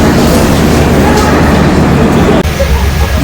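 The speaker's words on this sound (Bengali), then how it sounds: "বন্ধুরা প্ল্যাটফর্মে ট্রেন দিয়ে দিয়েছে।" The Sealdah–Puri Duronto Express standing at a platform while passengers board, a loud dense wash of engine hum and crowd noise that drops suddenly near the end.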